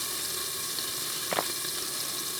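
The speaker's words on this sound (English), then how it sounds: "That cast iron is, you hear the sizzling popping" Steady, dense sizzling and popping of food frying in a hot cast iron pan over a fire, continuous and close, with one brief brighter clink partway through.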